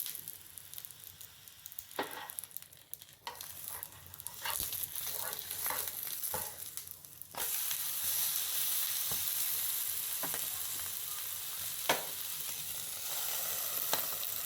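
Masala idli frying in oil on a banana leaf, sizzling steadily and close up with scattered clicks of a spatula turning it, the crackle growing louder and denser midway.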